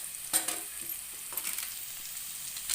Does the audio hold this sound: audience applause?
no